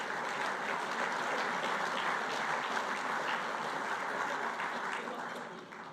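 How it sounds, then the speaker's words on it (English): An audience at a charity lunch applauds, a sustained, even wash of many hands clapping in a room that fades slightly toward the end. "let's have another round of applause for Ian, for Andrew, and for Gilbert"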